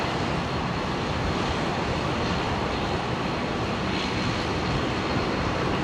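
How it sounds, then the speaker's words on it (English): A Qantas Airbus A330-200 in One World livery arrives from Auckland onto runway 19 Left at Brisbane International Airport, its engines a steady, broad, unbroken roar with no voices. "330-200 coming in from Auckland. 19 left."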